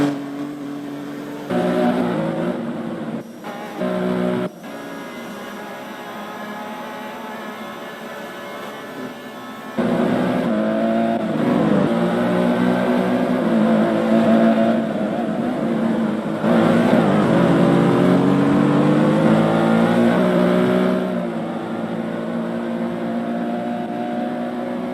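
LMP race cars at Daytona pass with droning, shifting engine tones that rise and fall over several seconds, a sustained loud roar broken by brief gaps, no talk.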